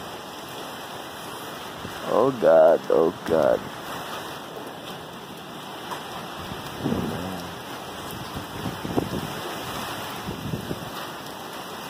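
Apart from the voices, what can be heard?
strong wind howling during a storm in Angeles City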